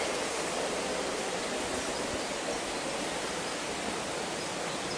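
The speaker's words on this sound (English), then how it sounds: "hopefully you can hear the water gushing" Water gushes steadily through the Acequia Gorda irrigation channel in Monachil, a continuous broadband rush heard close and alone, with no talk.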